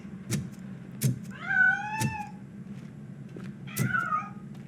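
A cat meows twice in the video game RoboCop Rogue City, each meow rising and falling, mixed with a few dull knocks and thumps over a low steady hum, with no speech.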